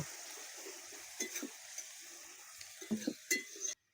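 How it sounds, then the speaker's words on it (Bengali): Katla fish curry gravy simmers in a pan, a quiet bubbling and sizzle with a few soft clinks and stirring noises growing toward the end before cutting off. "ঝোলটা একটু ফুটে গেছে"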